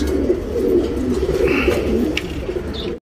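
Tournament pigeons in Bangalore, India coo continuously in soft, low, rolling murmurs, close and fairly loud, with a few faint chirps over them before the sound cuts off.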